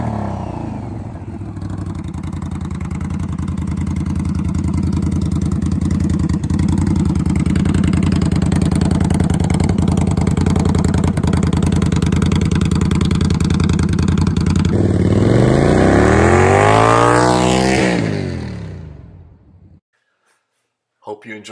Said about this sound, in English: we used the short muffler, the shock, which gives it a very deep but very loud sound